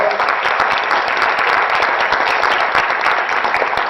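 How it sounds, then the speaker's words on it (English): Strong, sustained applause from a school audience honoring students, many hands clapping at once in a dense, even wash for the whole stretch. "Let's give them a nice round of applause."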